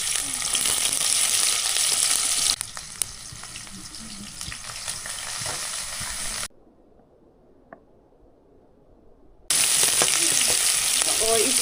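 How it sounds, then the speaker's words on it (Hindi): Onions frying in oil in a village kitchen: a loud, continuous sizzle and crackle with scraping stirs, broken by a few seconds of near silence before the frying resumes. "फिर उसके बाद प्याज डाल के प्याज को थोड़ा सा भून लूँगी"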